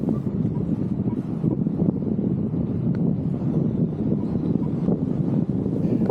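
Strong wind roars steadily across the microphone above a field during a paraglider landing in turbulent air, a dense, unbroken rush with no letup.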